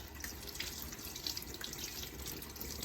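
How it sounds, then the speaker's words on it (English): A kitchen tap runs steadily into a sink while soapy hands are rinsed, a constant close hiss of water with small splashes and drips scattered through it. "Turn the water off"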